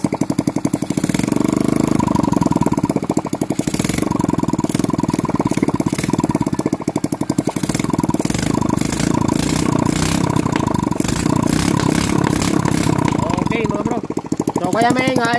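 A Raider J 110 motorcycle engine runs steadily up close, its noisy exhaust putting out a loud, rapid, rattling putter that holds constant throughout, with a few brief blips near the end.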